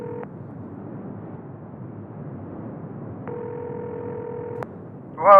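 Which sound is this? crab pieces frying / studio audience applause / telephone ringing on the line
telephone ringing on the line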